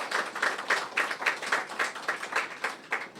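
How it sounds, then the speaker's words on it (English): Audience at a mental health and addiction recovery event clapping in a quick, steady rhythm of individual claps, moderately close, with no voices. "Give a round of applause."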